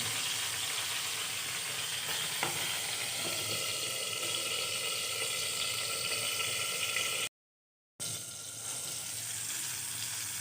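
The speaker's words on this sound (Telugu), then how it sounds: "మధ్య మధ్యలో కలుపుకోవాలి అడుగంటకుండా చూసుకోవాలి మధ్య మధ్యలో టర్న్ చేసుకోవాలి" Tomato and tamarind rasam simmering on low heat under a lid in a pan, a steady close bubbling hiss with faint sizzle, broken by a brief silent gap.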